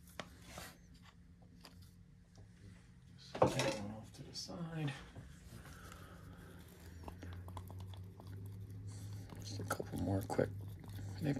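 Scraping and stirring of Smooth-On Mold Star 31T silicone rubber in a mixing cup, soft close scrapes and a sharper clatter mid-way, with a person talking throughout.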